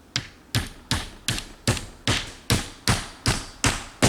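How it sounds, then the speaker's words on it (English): A hammer drives nails through metal roofing panels into wooden rafters, about ten sharp, evenly spaced blows ringing close and loud with no talk. "I'm going to nail into my rafters"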